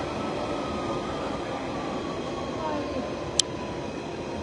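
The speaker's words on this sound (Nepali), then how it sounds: "उल्टो साइडतिर पो आज हे ट्रेन त" A train pulls into a London Bridge station platform with a continuous low rumble and hiss, steady and moderately loud, plus one sharp brief click near the end.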